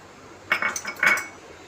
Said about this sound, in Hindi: अब हम इसमें ये जो सारी सब्ज़ी हमने कट की हुई थी ये डाल देंगे